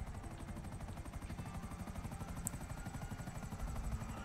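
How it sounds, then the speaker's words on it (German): Helicopters in GTA V Online, two of them, with a steady rapid rotor chop running continuously throughout at moderate loudness, a dense pulsing thrum with no voices over it. "zwei Hubschrauber und einmal so ein Cargo-Bob"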